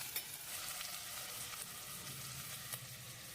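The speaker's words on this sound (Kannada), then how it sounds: "ಈರುಳ್ಳಿ ಸ್ವಲ್ಪ ಎಣ್ಣೆಯಲ್ಲಿ ಬಾಡಿಸ್ಕೋಬೇಕಾಗತ್ತೆ" Onions sizzling in oil in a pan while cooking aloo matar pulao, a steady close hiss of frying with faint stirring clicks, no voices.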